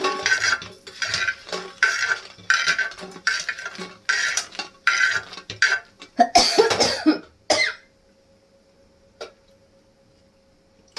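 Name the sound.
roasting urad dal in a clay pan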